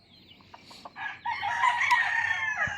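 Chickens cluck a few times on a backyard farm in Ilocos Norte, Philippines, then a rooster crows loudly and close by, the call stretching out for over a second.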